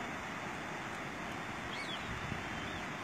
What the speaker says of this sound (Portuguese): Curte o barulhinho da água aí